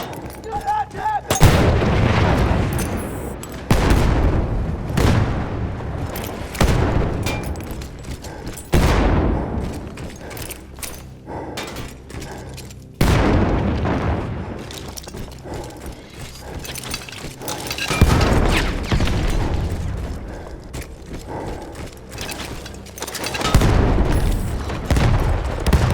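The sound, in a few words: explosions and gunfire in video game Battlefield 1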